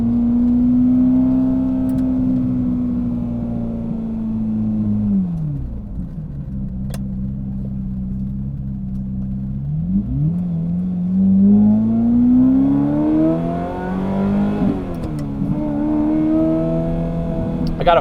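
Ferrari F355 Berlinetta with a gated manual gearbox, engine droning loudly from inside the car while driving, pitch climbing and falling through revs and gear changes, steady and close throughout.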